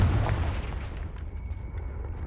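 A Confringo fire spell blasts in Hogwarts Legacy, a loud booming burst with a deep rumbling tail that fades over about two seconds.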